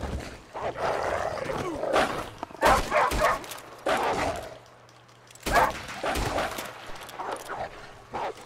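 Wolves attack in the video game Red Dead Redemption II, with barks, snarls and yips in repeated bursts, loud and close, over a steady game hum and a brief quiet gap.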